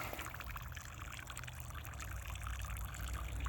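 Water trickles and dribbles steadily from a hanging Millbank canvas filter bag outdoors, a continuous close, soft splashing stream with no talking.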